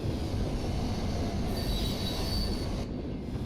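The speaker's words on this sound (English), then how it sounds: "I'm just kind of getting annoyed by how loud this train is" A loud train rumbles past at close range in the desert game Wonders Between Dunes, with wheels squealing in a high steady whine over the heavy roar, and no voices.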